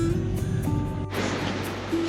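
Waves wash steadily onto the non-sandy shore of Tirtamaya beach in Indramayu, a continuous rushing surf with a faint low hum beneath it and no talk.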